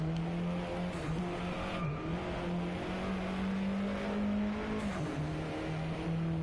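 A car drifting in the VR racing game Drive Club, its engine droning steadily near and loud with dips and shifts in pitch as it slides, tire noise mixed underneath.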